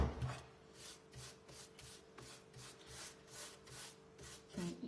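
A brush strokes white wash paint across golden pine wood in a steady back-and-forth rhythm of soft rubbing swishes, about two per second. The sound is close and quiet, with no talking.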